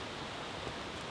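Steady rain falls outside an off-grid cabin in winter, an even hiss of drops with no other sounds.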